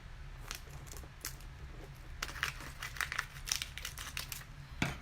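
Adhesive vinyl sheet for a pumpkin wood slice craft is trimmed by hand, producing close, quiet crinkling and crackling of the plastic with a few sharper snips and rustles, no talking.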